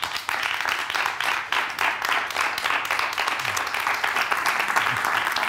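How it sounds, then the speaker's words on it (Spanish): A television studio audience gives sustained, dense applause for a guest arriving on set, a steady wash of many hands clapping at once that stays loud throughout. "mantener el aplauso para Jesús Arroyo."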